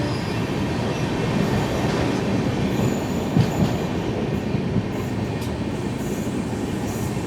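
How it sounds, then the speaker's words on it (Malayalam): The Kerala Express passes close by, a loud continuous rumble of rail cars with wheel clatter and brief squeals over the steady roar. "അന്ന് കേരള എക്സ്പ്രസ് വരുന്നത് കാണാം."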